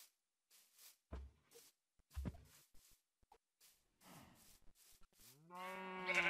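Sheep in the Minecraft video game give short blocky bleats and moos among scattered plopping footsteps, ending in a louder drawn-out bleat, with no talk.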